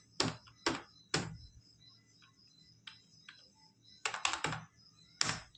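Typing on a computer keyboard during typing practice: close, crisp key clicks in short bursts with pauses between, a few quicker clusters near the end, no voices.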